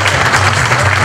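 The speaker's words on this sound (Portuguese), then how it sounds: "Uma salva de palmas para esses" An audience claps at a Brazilian television program, loud sustained applause with a low rumble beneath, steady throughout the short stretch.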